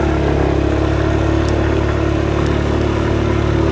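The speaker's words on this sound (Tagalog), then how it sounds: "Ay, nabibitin ang motor ni Kuya Boy." A motorcycle engine runs loud and close with a steady, uneven mechanical drone that hangs and falters instead of revving cleanly.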